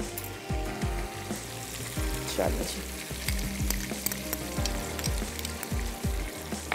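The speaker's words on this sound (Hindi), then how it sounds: "ये चला गया इसमें लहसुन और अदरक का पेस्ट और अब इसके साथ हम इसको थोड़ा सा रोस्ट कर लेते हैं" Garlic and ginger paste sizzles and fries in a pan for a Hyderabadi malai qorma, with steady hiss and repeated stirring scrapes throughout and a brief voice speaking once.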